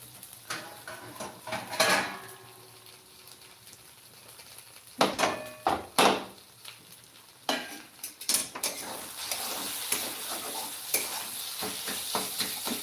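Spring onion greens sauté in a pan over medium heat, a steady sizzle beneath irregular clinks and scrapes of a utensil against the pan, close by, with louder bursts of stirring near the end.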